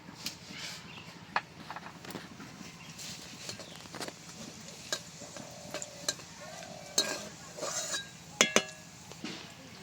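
Dry red chillies, cumin and whole garam masala fry in hot oil with a low bubbling sizzle, scattered sharp pops and crackles, and a few light clinks of a utensil against the pan.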